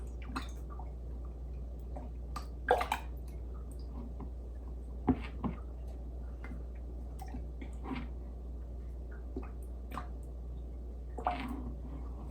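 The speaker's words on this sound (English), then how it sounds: "you're just going to try to stir it until it combines" Elderberry syrup and honey being stirred with a spoon, producing soft, wet squishing and occasional light clinks over a steady low hum, quiet and close with no talking.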